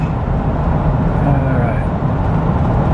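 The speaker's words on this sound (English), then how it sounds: "Downshift to pick it up because I want to get to 55-ish." Interior of a 1999 Ford E150 conversion van as the engine downshifts and pulls harder under acceleration, a steady loud drone of engine and road noise filling the cabin without a break.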